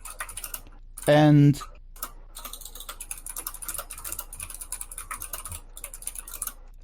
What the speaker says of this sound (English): Ellie's typing all the things.